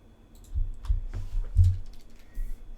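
Rapid, soft computer mouse clicks, several in quick succession at close range, with no talking.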